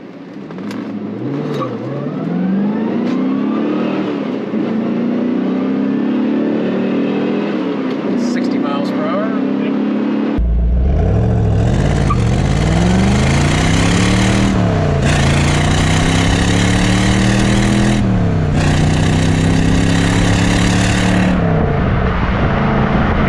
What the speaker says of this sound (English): Let this LT1 breathe a little bit.